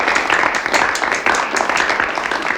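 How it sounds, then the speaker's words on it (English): Audience applause for a remote student performance showcase, a steady dense wash of clapping for a couple of seconds, fairly loud and even. "doing a social distancing round of applause"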